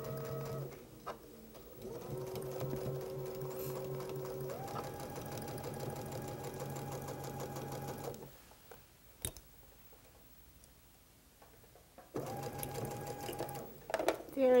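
A domestic sewing machine runs steady bursts while stitching a quilt seam, a close, even mechanical hum with a pause in the middle before it starts again; a voice talks over parts of it.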